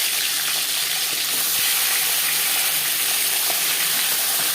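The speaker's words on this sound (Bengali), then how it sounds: "3 চামচ রিফাইন্ড অয়েল গরম করে নিয়েছি। এবার দিয়ে দেবো ম্যারিনেট করে রাখা মাছের মাথা।" A marinated rohu fish head fries in three spoons of hot refined oil, giving a loud, continuous sizzle and crackle close by with a steady bright hiss and no talk.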